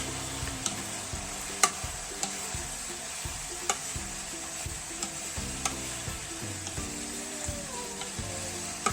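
Chicken gizzard, chicken feet and liver adobo being stirred in a pan: a soft steady sizzle broken by repeated scraping strokes and sharp taps of a utensil against the pan.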